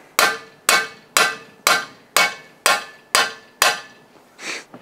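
A hammer strikes a driver tool to knock a balance shaft bearing out of an engine block, eight sharp metallic blows at a steady rhythm, close and loud, followed by a softer final tap.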